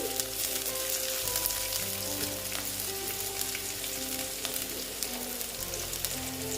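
Chopped onion fries in a hot pan with a steady, dense sizzle and crackle that holds for several seconds, close and fairly loud, over a low hum, with no talking.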